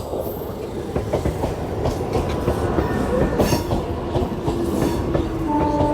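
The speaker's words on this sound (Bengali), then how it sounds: "এই মুহূর্তে কিন্তু কালীনারায়ণপুর জংশনে একটি ট্রেন ঢুকছে" An ICF-coach Bengal suburban local train bound for Sealdah rolls into Kalinarayanpur Junction with a steady loud rumble and rhythmic wheel clatter, and thin brake squeals emerge toward the end.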